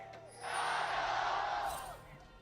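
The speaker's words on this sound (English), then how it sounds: "Crowd just going off." Esports arena crowd at the 2017 League of Legends World Championship play-in between Team WE and Young Generation erupts into a loud roar of cheering that swells, holds for over a second, then fades.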